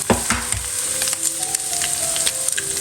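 Eggs frying in a hot pan sizzle loudly and continuously up close, with a few sharp crackles and light stirring scrapes near the start, and no voices.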